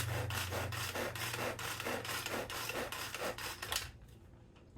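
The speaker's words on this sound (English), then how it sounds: "Then I'm going to give it some pulls to mix it all up." A Tupperware SuperSonic Chopper is pulled repeatedly by its cord to mix an avocado truffle mixture, giving a fast rhythmic run of ratcheting, whirring pulls up close that stops abruptly near the end.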